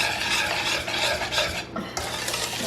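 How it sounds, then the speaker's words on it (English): A whisk stirs chocolate fudge brownie batter in a bowl, loud, rapid scraping strokes repeating in a quick rhythm with a brief pause near the end. "just mix all your ingredients together"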